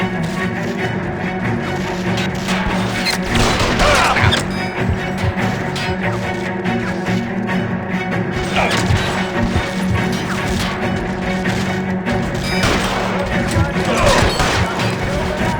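Gunfire in an L.A. Noire shootout at Nicholson Electroplating: repeated loud cracks and crashing impacts over a dense, constant din of game noise, with sharper bursts recurring every few seconds.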